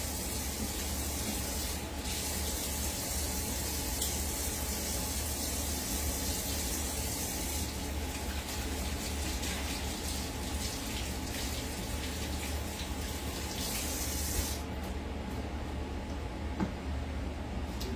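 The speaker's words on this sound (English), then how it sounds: "I'm going to wash my hands again." A kitchen sink tap runs in a steady, close, hissing stream while hands are washed, continuous throughout, with the flow changing briefly near the end.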